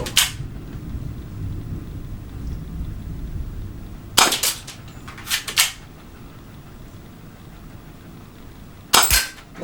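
Sharp, short pops from an Airsoft GI HFC HA118EBL M9 pistol, black and silver, sounding as a few isolated shots and a quick pair of shots at intervals over a low background hiss.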